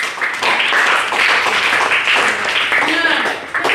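Students in an Indonesian classroom clap their hands together, a loud, close burst of scattered clapping mixed with voices and chatter.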